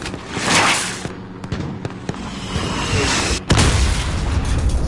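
Mortar explosions in a console video game: several heavy booms and cracking blasts rolling into each other over a dense, rumbling battle backdrop, loud and close, with a strong impact near the end.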